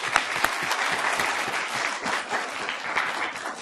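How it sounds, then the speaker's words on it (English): An audience applauds at the final round of a law school moot court competition, a steady dense roll of clapping from a full room that holds at an even level throughout. "Round of applause, please."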